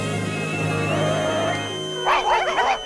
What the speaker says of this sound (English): Puppies? Where are the full-size dogs?